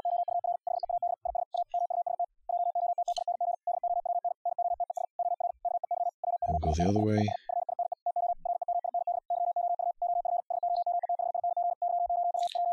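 Morse code CW sidetone keyed at 75 words per minute through FLdigi on Linux, a rapid, steady stream of a single pitched tone running throughout. A brief spoken remark breaks in partway through.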